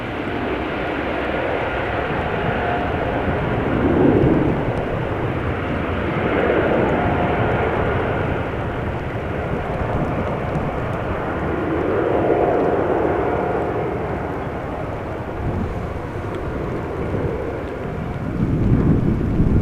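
A Cathay Pacific Airbus A350 departing Amsterdam Schiphol gives a loud, sustained jet roar that swells and rolls in slow waves, heard from the ground with no talking.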